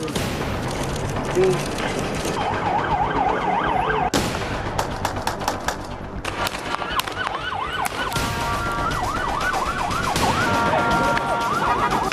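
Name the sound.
ambulance siren at a protest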